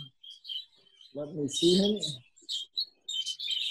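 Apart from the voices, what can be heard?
budgies chirping in breeding cages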